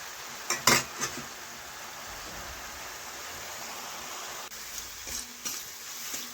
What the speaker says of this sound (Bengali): তো এই জলটা আমি এইভাবে নাড়াচাড়া করতে করতে শুকিয়ে ছাতুগুলো ভেজে নেব